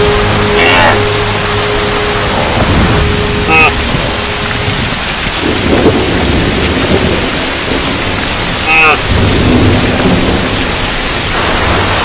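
Heavy rain pouring in the Virunga mountains, a loud continuous hiss with deep rolling thunder rumbling beneath and a few bird calls cutting through.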